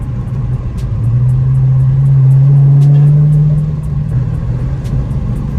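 A Scat Pack car with a new exhaust revs during a downshift, a rising, droning exhaust note that swells loudly mid-clip and then eases back to a steady rumble.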